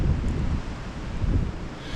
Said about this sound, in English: It's a gusty wind today too